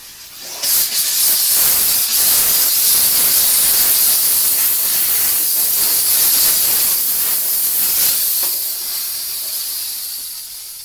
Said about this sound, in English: you can have the steam blasting out of the hose at all times